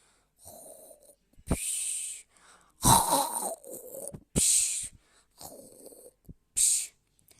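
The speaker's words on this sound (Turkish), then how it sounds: "camları titreten bir horultuyla uyumuş" A wolf's loud snoring sound effect for a fairy tale: a series of separate rasping, snorting breaths with short silences between them, close and clear, with no talking.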